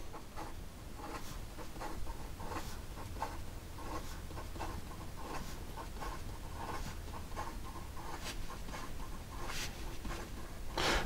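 A Wancher Seven Treasures piston-filler fountain pen scratches quickly across paper in rapid strokes, a faint close scratching texture over low background noise with no speech.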